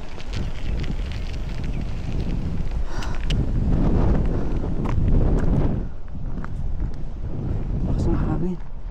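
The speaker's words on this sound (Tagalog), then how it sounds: "Lakas ng hangin." Strong gusts of wind blowing outdoors in New Zealand, loud and buffeting against the microphone throughout, with a person talking under the rushing noise.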